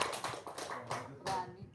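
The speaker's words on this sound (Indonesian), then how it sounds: "Tepuk tangan dulu dong." A small group of people claps in short, uneven bursts, a few quick hand claps at close range, sparse rather than a full ovation, with some faint voices between them.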